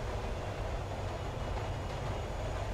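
A steady, dense rumble of a moving train in the horror video game She Waits in the Dark, aboard Train 113, holding an even level throughout with no talk.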